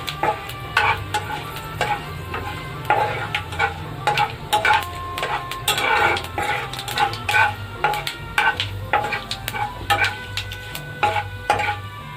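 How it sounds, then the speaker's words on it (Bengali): Dried red chillies, bay leaf and five-spice seeds sizzle in hot oil in a pan while a utensil stirs them with steady scraping and clinks, close and continuous over a low background hum. "এরপর দেব 2টো শুকনো লঙ্কা, এরপর দেব তেজপাতা, এরপর দেব 5 ফোড়ন। খুব ভালো করে মিশিয়ে নেব।"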